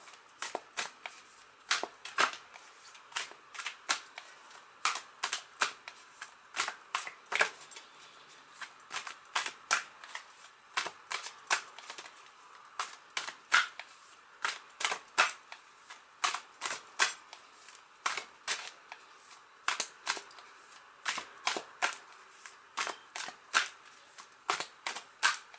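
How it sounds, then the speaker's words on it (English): Tarot cards being shuffled over and over, quick crisp riffles and slaps in an uneven rhythm, close by and fairly quiet, with no talking. "So let me shuffle these cards."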